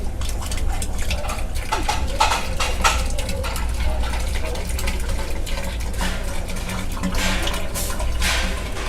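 Non-acid drain cleaner pours steadily down a clogged drain with a continuous gurgling wash and occasional clinks, running throughout at moderate loudness.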